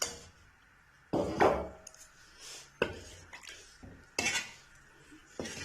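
Four eggs go into oil in a pan and get stirred, heard as scattered metal scrapes and clanks of utensil against pan separated by quiet gaps, close and fairly soft, with no talking.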